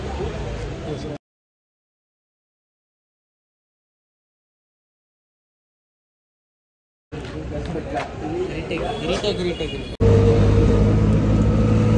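An auto rickshaw engine rumbles while riding along a road, with a gap of silence midway, then louder steady motor noise with road rumble.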